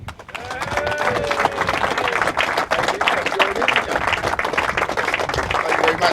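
A crowd claps steadily for trophy winners at a motorcycle top-speed wheelie competition at Elvington, UK, in 2005, the applause dense and continuous with voices mixed into the noise.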